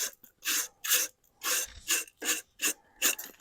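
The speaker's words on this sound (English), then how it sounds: "Let me rub some dirt on that." Hand rubbing and scraping dirt over spilled fuel from a canister outdoors, a series of about eight rough, gritty strokes in a steady rhythm, close and fairly quiet.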